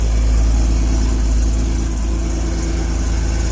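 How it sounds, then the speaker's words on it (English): A 1979 Porsche 930 Turbo engine idles just after a cold start, a steady, close, low mechanical drone that holds even and uninterrupted throughout, with no voices. "Beautiful, beautiful sound. It's a true cold start."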